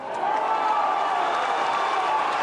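A boxing crowd at the Scott Harrison vs Gyorgy Mizsei fight shouts encouragement to Scott. The cheering and yelling form a dense, sustained roar that holds steady and loud throughout.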